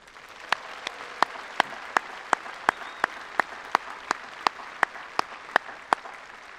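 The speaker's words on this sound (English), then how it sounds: "Would you please give all of these special guests a big round of applause?" Applause at an outdoor high school graduation ceremony in a stadium, a soft crowd wash with a steady series of sharp, evenly spaced single claps standing out nearby.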